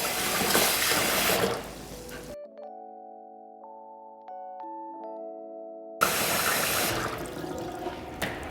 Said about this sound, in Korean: 쌀을 씻어 불려서 밥 할 준비도 이제 하려고요.